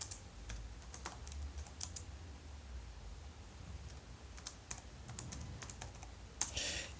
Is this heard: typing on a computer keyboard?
yes